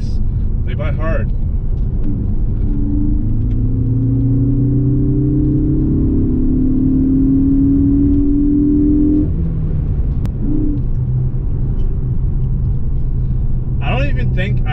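A Ford Focus ST engine hums steadily from inside the cabin while driving, its tone rising under acceleration, dropping at a gear change, then climbing again, loud and continuous with brief talk at the start and end.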